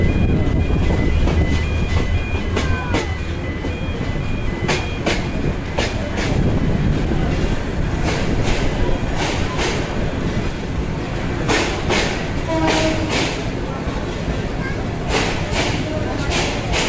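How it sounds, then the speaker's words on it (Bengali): Parabat Express passenger train rolling into Bhanugach railway station, heard from on board as a loud continuous rumble with rhythmic wheel clatter and repeated sharp clicks, plus a few brief tonal squeals, under nearby voices. "আমাদের ট্রেন প্রবেশ করছে ভানুগাছ রেলওয়ে স্টেশনে।"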